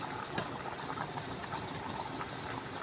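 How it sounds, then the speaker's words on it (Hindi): Potato rice pulao simmering in spiced water in a cooking pot, giving a steady, dense bubbling and hissing boil that continues without pause, fairly close and alone with no talk. "अभी इनको हम पानी के अंदर इसके मसाले में पकने देंगे।"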